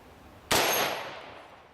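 A green tip rifle round strikes a titanium plate with a single sharp, loud crack, followed by a bright metallic ring that slowly fades.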